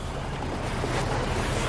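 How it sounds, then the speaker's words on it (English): A racing yacht in the 2007 America's Cup pounds through a bumpy, choppy sea at about 10 knots, with steady loud rushing water and wind noise filling the whole stretch without a break. "It's a bumpy seaway."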